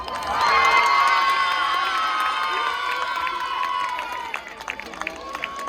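A crowd at a charity closing event in Nice cheers and shouts for football coach Didier Deschamps, loud sustained whooping and high-pitched voices swelling early, then gradually thinning out with scattered claps near the end.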